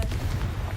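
A Confringo fire blast bursts in Hogwarts Legacy, a short, loud, rumbling impact with a heavy low-end roll under scattered crackle, close and brief.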